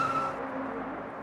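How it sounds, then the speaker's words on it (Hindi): A white Maruti Suzuki Baleno car pulls up at a bus stop amid steady road traffic, its engine and tyres giving a continuous close rumble with a brief high squeal at the start, no voices. "और तभी एक सफेद रंग की बलीनो कार बस स्टॉप पर आकर रुकती है।"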